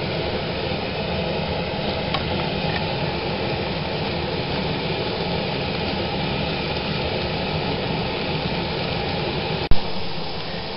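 Mushrooms frying in a pan for a pigeon pie, a steady close sizzle running throughout without voices, with a sharp clink near the end.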